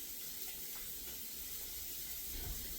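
Sausage links fry in a pan with a faint, steady sizzle and hiss, soft and continuous throughout, with no talking.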